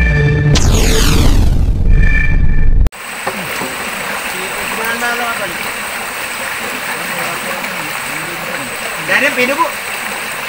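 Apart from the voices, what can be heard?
strong water flowing down into fish trap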